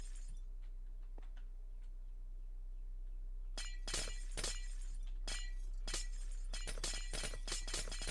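Glass blocks shattering in Minecraft Create Mod as a portable drill instantly mines them: a quiet stretch, then a rapid run of bright, crisp breaking-glass bursts, loud and close, with no talking.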